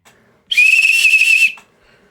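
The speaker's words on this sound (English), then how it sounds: "a prolonged whistle." A single whistle is blown in one prolonged, loud, steady shrill blast that lasts about a second and then stops cleanly.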